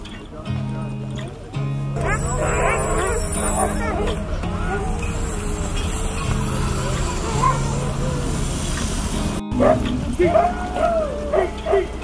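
A pack of sled dogs at a Yukon Quest race checkpoint barks and yips excitedly nearby with some whimpering, under crowd chatter and background noise.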